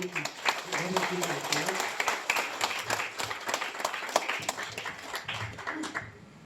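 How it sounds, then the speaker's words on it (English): Guests clapping at a wedding ceremony, a dense run of hand claps that carries on for several seconds, with voices talking underneath before it tapers off at the end. "Please clap."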